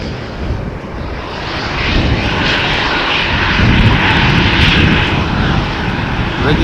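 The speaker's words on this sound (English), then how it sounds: "I can hear the 737" A Boeing 737's jet engines roar loudly and steadily at Amsterdam Schiphol airport, swelling gradually and holding a broad, powerful rumble with a hissing upper layer.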